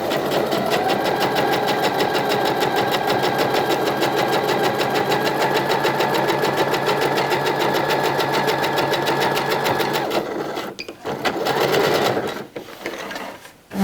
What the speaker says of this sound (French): je passe à la dernière surpiqûre, donc à 4-5 mm de la première